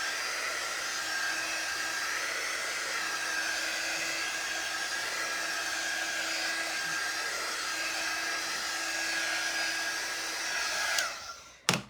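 A handheld heat dryer blowing on a transfer, a steady close whirring roar held for most of the time before it clicks off near the end.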